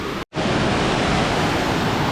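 Water rushes steadily at Sungai Pandan waterfall, a loud, continuous broadband roar close by, broken only by a brief dropout near the start, with no voices.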